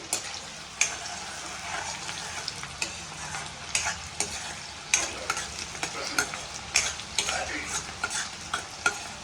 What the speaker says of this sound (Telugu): ఇప్పుడైతే కరివేపాకు వేసుకున్నా ఆయిల్లో ఒక ఉల్లిపాయ అయితే కట్ చేసుకున్నాను అంటే వేసుకున్నాను